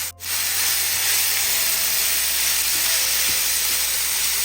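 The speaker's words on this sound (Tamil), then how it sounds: "புரோக்கோலியை நம்ம சேர்த்துக்கலாம்." Broccoli tossed into a hot pan with tomato and salt sizzles loudly after a brief silence, a steady close hiss and crackle of frying that continues without letting up.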